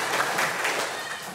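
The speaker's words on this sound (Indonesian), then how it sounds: "Tepuk tangan bagi kita semuanya" A congregation at a church anniversary service claps together, a brief, fairly loud burst of applause filling the room with no voices on top.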